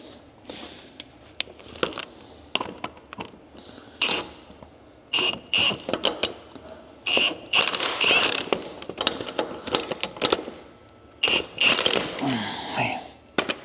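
Ratchet clicks tighten a new 3/8 inch wheel stud fitted with an adapter kit tool on an old Ford LTL9000 truck, in irregular bursts of sharp metallic ratcheting and clanks, close up with short pauses.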